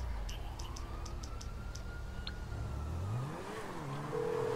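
A police car siren in GTA V Online wails steadily in the distance over a low rumbling car engine. Near the end the siren sweeps and rises in pitch as it draws closer.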